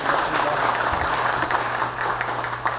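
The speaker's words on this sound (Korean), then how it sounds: "여러분, 우리 서인택 상임 공동 의장님께 큰 박수 한번 보내주십시오." A crowd at an inauguration ceremony in Daejeon applauds with a continuous, moderately loud patter of many clapping hands that carries through the whole stretch.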